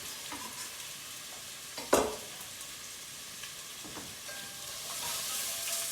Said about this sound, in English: Add our carrots and celery to the pot.